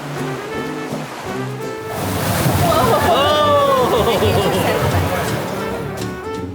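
Water sloshes and surges loudly around a log flume boat on Tiana's Bayou Adventure at Walt Disney World, a broad wash swelling midway as riders' voices and excited chatter rise over it.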